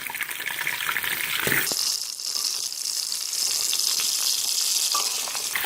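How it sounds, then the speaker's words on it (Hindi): Fish heads fry in ghee with a steady, close crackling sizzle, a brief clatter as pieces go in near the start, then continuous spitting and bubbling, no voices. "देखिए उसी घी में मैंने ये मछली के सिरे ऐड कर दिए"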